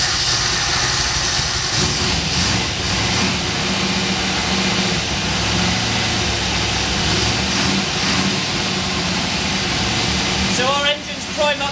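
A Triumph TR8 engine runs at a steady idle, a close, continuous mechanical drone with a low throb, while people talk over it.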